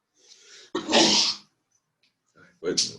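A single loud, close sneeze bursts out in the middle of the clip, followed a moment later by a short burst of sound from the same person; a quieter voice is heard just before it.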